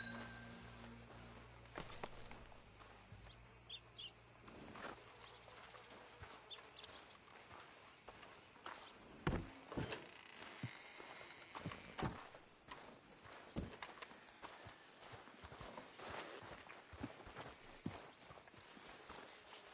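Horse hooves in Red Dead Redemption 2 clip-clop unevenly at a slow walk at night, with scattered sharp knocks and light rustling in a quiet outdoor setting.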